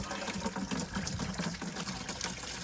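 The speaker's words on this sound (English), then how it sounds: "I'm gonna drain the coolant by loosening up the lower hose here" Coolant pouring steadily from the loosened lower radiator hose of a Massey Ferguson tractor into a bucket, a continuous close splashing trickle with no talk.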